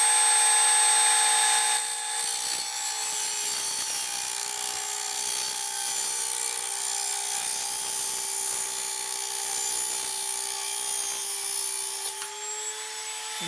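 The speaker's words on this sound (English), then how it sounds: "Bring the Dremel tool up to full speed." A Dremel rotary tool runs at full speed cutting a model aircraft prop saver shaft, giving a loud, steady high-pitched whine with a continuous tone that holds for the whole stretch and dips slightly near the end.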